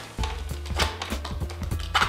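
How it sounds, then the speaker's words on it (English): A blade slicing the fabric off a Bestop Jeep door around its frame: a run of short, repeated cutting strokes, close and fairly steady, over a low background hum. "it looks intimidating to cut the fabric off your door"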